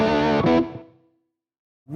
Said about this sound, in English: you will have heard a really nice reverb that they spent quite a bit of time on the Lone Star